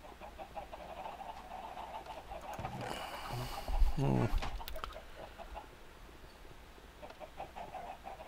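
Chickens cluck in the Minecraft video game, moderately loud amid steady game background noise, with a brief louder burst partway through and no talk over them.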